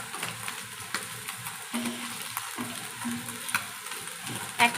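Small puti fish frying slowly in hot oil in a home kitchen pan, a steady close sizzle with occasional stirring scrapes and soft pops, no talking.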